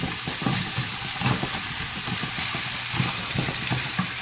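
Onions sauté in a hot pan, giving a loud, steady sizzle and crackle with repeated stirring scrapes throughout and no talking.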